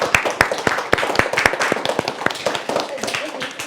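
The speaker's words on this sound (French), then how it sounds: "Bravo, on applaudit Sarah" Scattered applause for a student named Sarah at a French middle school, Collège Restif de la Bretonne, individual claps sharp and distinct in an uneven rhythm, with voices mixed in.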